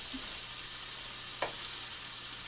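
Okonomiyaki on a hot griddle just after flipping, a steady soft sizzle with a single brief thump midway.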